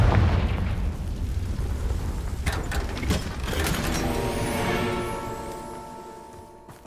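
A Confringo blasting spell goes off in Hogwarts Legacy, a loud burst with crackling debris and a rumbling boom that rings out and fades over several seconds, with no talk over it.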